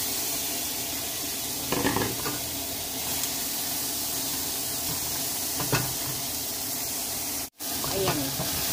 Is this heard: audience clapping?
no